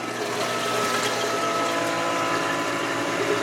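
A small power head supply pump runs in a reef tank sump, giving a steady, close watery hum and churn that holds even throughout, with no voices.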